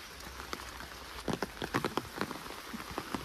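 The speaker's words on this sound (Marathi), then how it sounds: "आता पाऊस पडायला लागला" Rain falls on a rice paddy at harvest time, a steady hiss with scattered sharper drops pattering on nearby surfaces, with no voices.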